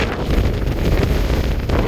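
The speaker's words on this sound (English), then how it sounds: "That's how windy it is here." Strong wind on the Hummocks Trail at Mount Saint Helens, Washington buffets the microphone with loud, continuous rumbling and roaring gusts throughout.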